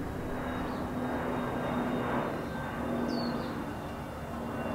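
A fixed-wing airplane passes high overhead as a steady, broad engine drone that swells slightly and then eases off. A faint bird chirp sounds briefly partway through.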